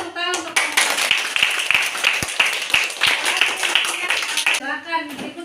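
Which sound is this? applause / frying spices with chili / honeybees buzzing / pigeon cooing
applause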